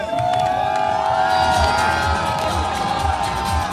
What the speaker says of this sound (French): Derrière lui, ils l'acclament, ils applaudissent.